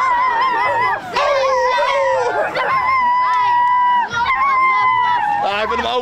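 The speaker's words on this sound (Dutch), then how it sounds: "Dat is een stom hondje." A small dog howls loudly and close, with long wavering yelping howls rising and falling almost continuously, broken by brief pauses, at an outdoor local festival day in Spakenburg.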